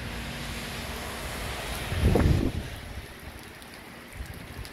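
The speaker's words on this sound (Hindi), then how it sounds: "बारिश बहुत ज़बरदस्त लगी है जी आज।" Steady heavy rain hisses throughout, with a louder gusting surge in the middle before settling back to a constant wash.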